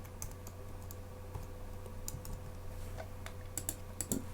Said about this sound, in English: Right here, we're going to type balance.